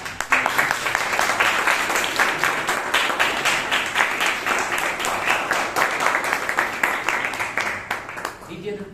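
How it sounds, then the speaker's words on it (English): Audience applause fills a Toastmasters club meeting in Bangalore, dense continuous clapping for nearly nine seconds before tapering off at the end. "He needs a thunderous applause."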